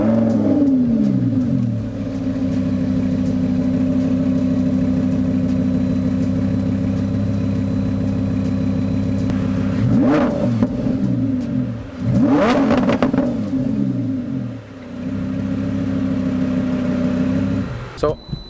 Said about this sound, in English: I'm gonna let you guys hear what the actual car sounds like when you start